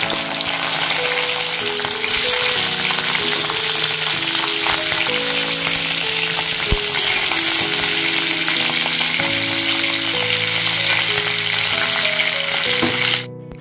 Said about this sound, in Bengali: তেল গরম হয়ে গেছে, এবারে কেটে রাখা কুঁদরিগুলো দিয়ে দিচ্ছি ফ্রাই করার জন্য।